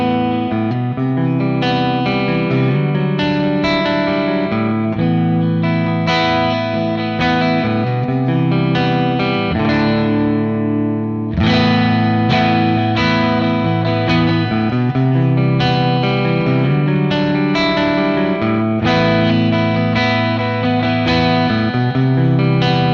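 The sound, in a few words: electric guitar through Friedman JEL-20 amp Plexi channel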